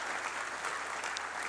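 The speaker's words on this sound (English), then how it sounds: "That applause is for you." Applause at a parliamentary dinner during Minerals Week 2021, a dense, steady patter of many hands clapping in a room, moderately loud and continuous throughout.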